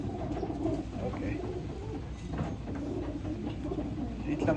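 Racing pigeons cooing in a loft, soft repeated low coos from several birds close by, steady over a faint background hum, with no talking.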